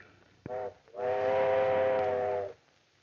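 A steam train whistle sounds in a Western setting, a short toot followed by one long steady blast of about a second and a half, clear and fairly close.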